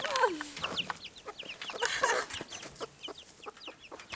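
Backyard chickens clucking in a quick, busy string of short calls, fairly close, with a few higher squawks mixed in and brief voices in the background.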